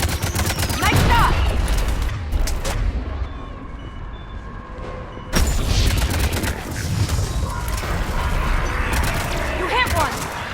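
Gunfire rattles through a battle in the Mass Effect 3 video game, with loud bursts of shots and cracking impacts, a brief lull, then heavy firing resuming, while voices call out over the action.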